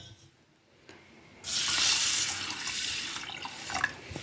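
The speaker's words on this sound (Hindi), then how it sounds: "तो कच्ची मूंग दाल है जो आप दाल बनाने के लिए यूज़ करते हैं, इसे पहले अच्छे से वॉश कर लीजिए" Raw moong dal being rinsed under a running tap, water splashing steadily into a bowl or sink for a few seconds after a quiet start, close and fairly loud with no talking.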